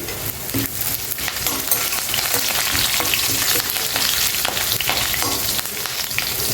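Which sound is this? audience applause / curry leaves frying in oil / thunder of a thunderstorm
curry leaves frying in oil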